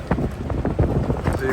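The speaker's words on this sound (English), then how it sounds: "The wind's coming directly at me, so I can't sail." Wind buffeting the microphone aboard a Sabre 27 sailboat motoring into a headwind through Bardsey Sound, gusty rumbling bursts close and loud, with a faint engine hum beneath.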